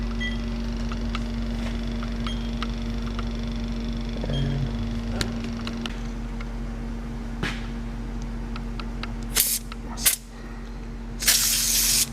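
Short hissing spray bursts near the end as leak seeker foam goes onto an AC compressor case on a GMC Acadia, over a steady engine-bay hum.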